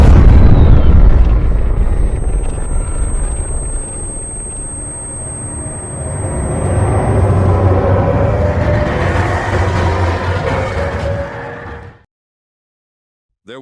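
A dramatic plasma explosion effect for a fantasy dragon transformation scene: a loud, roaring boom that swells, rumbles on for several seconds with a thin high whine, then cuts off abruptly into silence.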